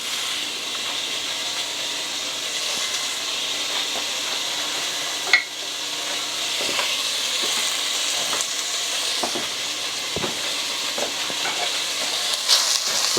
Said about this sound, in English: we're going to go ahead and drop our bacon in